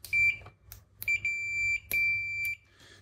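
A multimeter's continuity checker gives three steady high-pitched beeps of varying length, close and clear, with small clicks from probes between them.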